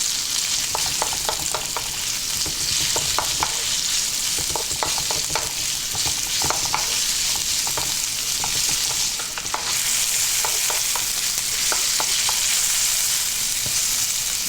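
A cup of white onion stir-fries in a hot wok, a loud constant sizzle with rapid ticking scrapes of a utensil tossing the pieces, close and uninterrupted.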